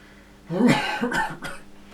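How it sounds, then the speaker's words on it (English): One short, close cough from a person with a cold, a couple of rough bursts in quick succession, loud and alone. "Please forgive me, a bit of a cough and cold at the moment."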